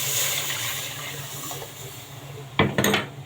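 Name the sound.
milk being poured into a pot of toasted spaghetti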